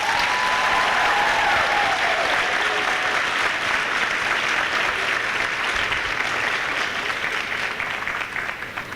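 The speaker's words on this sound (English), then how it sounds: "let's please have a loud round of applause for our students" Loud, sustained applause from parents, faculty and students for the new students at a white coat ceremony, a dense wash of clapping throughout that fades slightly near the end.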